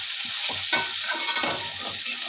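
Okra (lady finger) pieces being stirred and frying in hot oil for a curry, a steady close sizzle with scraping stir strokes throughout, no talk.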